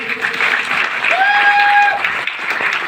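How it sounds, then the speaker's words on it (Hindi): An audience gives a loud burst of applause for the parents at a direct selling leadership event, dense clapping close and full throughout, with a brief tonal whistle rising through the middle. "मैं चाहूँगा हमारे माता पिता के लिए जोरदार ताली होनी चाहिए"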